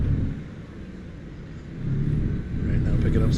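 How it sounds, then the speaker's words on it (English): Heavy truck slowing on engine brakes in American Truck Simulator on a Missouri highway: a steady low diesel rumble that swells and grows louder toward the end, with a voice talking over it. "Using the engine brakes to slow down"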